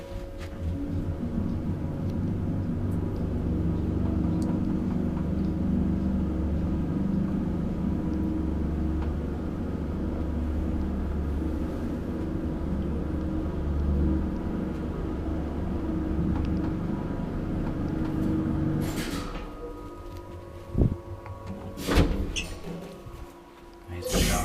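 A 1963 Valmet-Schlieren traction elevator rides smoothly, giving a low steady hum and rumble in the car, with a few knocks and clunks near the end and occasional quiet voices.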